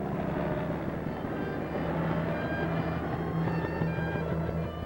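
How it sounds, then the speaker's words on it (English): Army helicopters ferrying tornado casualties to a medical center, a steady engine and rotor drone with a low harmonic hum that holds evenly throughout, fairly close and with no talk. "Army helicopters are speeding the emergency cases to the medical center."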